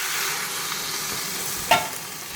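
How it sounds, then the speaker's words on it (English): Sausages simmering in canned tomatoes and coconut milk in a saucepan, with a steady broadband sizzle and a single short scraping stir sound near the end, close and moderately loud with no talking. "Just give that a stir."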